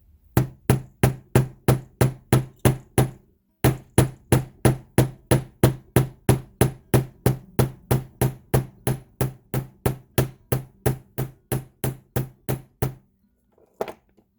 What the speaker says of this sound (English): let's hammer this and see what happens with our solid side this time